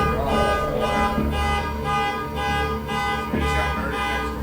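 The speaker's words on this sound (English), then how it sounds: "a car alarm starts going off." Car alarm blaring from inside a neighbour's garage, a continuous loud electronic wail with a repeating pulsing pattern, dense and steady throughout.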